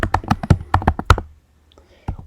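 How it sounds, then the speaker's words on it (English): Quick, close keystrokes clatter on a computer keyboard in an uneven burst of about a dozen taps, then pause briefly before a couple more strikes. "you start typing"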